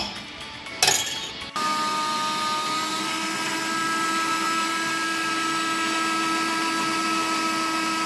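Dark chocolate is ground in a blender: a brief clatter as the motor starts, then a steady, loud, high-pitched whirring grind running without pause to the end.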